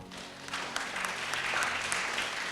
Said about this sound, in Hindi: इस बहन के लिए ताली बजाइए